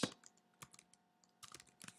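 Quick, irregular bursts of keyboard typing, with crisp clicks of keys tapped in short clusters and brief pauses between them.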